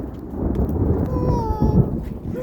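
Thunder rolling during a heavy thunderstorm in Cheney, a broad low rumble that swells and fades under steady rain, with faint voices and a brief whistling tone partway through.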